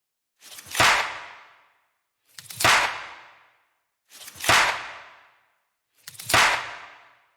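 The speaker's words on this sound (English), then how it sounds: "The last thing I have here is the clap," A layered electronic clap sample built from a clap and small Foley sounds, played four times at a steady, evenly spaced rhythm, each hit sharp and bright with a short noisy decay, alone with nothing else playing.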